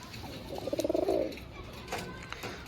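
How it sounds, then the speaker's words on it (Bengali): A pigeon gives a short burst of soft, rapid cooing amid quiet background rustle and faint ambient noise. "খুবই সুন্দর পায়রা আছে"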